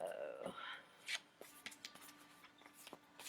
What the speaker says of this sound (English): This is a big deck. They're hard to shuffle.